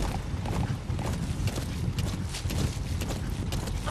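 A horse gallops in the video game Metal Gear Solid V, with a fast, continuous clatter of hooves heard close and loud throughout.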